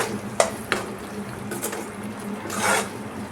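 A few scraping, clattering strokes of a spoon stirring beetroot poriyal with coconut powder in a pan, short and fairly close, with quiet pauses between strokes.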